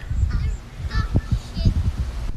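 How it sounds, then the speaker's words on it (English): A family of ducks calls with loud, honking quacks in a rapid, uneven series close by, with voices talking over them. "We were looking at these ducks. It was like a whole family of ducks."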